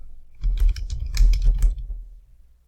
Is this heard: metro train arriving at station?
no